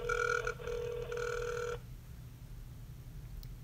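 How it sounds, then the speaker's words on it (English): A phone's ringback tone plays over a speakerphone, a steady tone in two short bursts that then stops, leaving faint background hiss. "It's ringing. Pick up."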